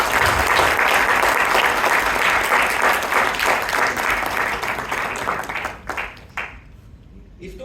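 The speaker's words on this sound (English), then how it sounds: "Give me one round of applause." A room of attendees at a Bangalore Toastmasters club meeting breaks into loud, dense applause that holds steady for several seconds, then thins to a few last claps and dies away.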